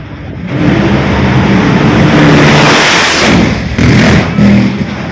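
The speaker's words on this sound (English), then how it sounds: "Funny car, first round, first pair, time to hit the gas." Funny car drag racers launch in the first round, first pair of an NHRA championship meet in Richmond, Virginia, a loud sustained engine roar that surges and dips with revving over about five seconds, close and dominant with no talk.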